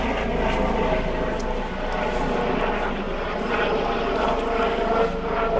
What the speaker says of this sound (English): We've got a helicopter going over.